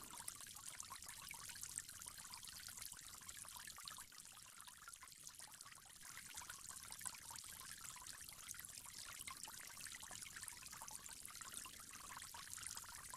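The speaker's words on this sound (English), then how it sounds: "you'll go on to rinse your mouth 3 times." Water runs and splashes steadily while a person rinses the mouth during ablution before prayer, a continuous faint trickling pour with no voices.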